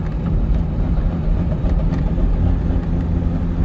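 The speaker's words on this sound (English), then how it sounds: "I intentionally have the engine at about 1200 RPMs at very light throttle" A deep, lumpy cammed V8 in a C6 Corvette rumbles at about 1200 RPM on very light throttle, its uneven loping pulse bucking slightly as the car moves along.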